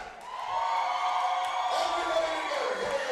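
Spectators at a small football game, a few hundred friends and family, cheer and whoop as the PA announcer on the sidelines rouses them; a steady, fairly loud crowd roar with voices rising throughout.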